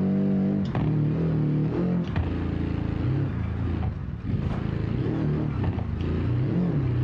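A rally car engine in the BeamNG.drive video game, on a Rally Italia stage, revs up and down through shifting pitches, loud and close, with mechanical clatter and no talk over it.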